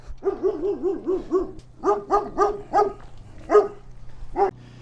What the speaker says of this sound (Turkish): O yüzden bizi köpekler karşılıyor.